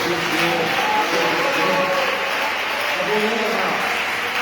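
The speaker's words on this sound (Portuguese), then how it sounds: "Cadê as palmas, Senhor?" Church congregation clapping in a dense, continuous patter during a worship service, with voices speaking and calling over the applause throughout.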